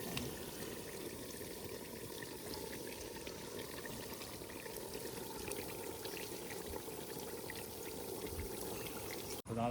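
Water poured into a pot of chicken cooking at a Punjabi village home; a steady, quiet, continuous stream runs for about ten seconds with no talking, cutting off abruptly at the end.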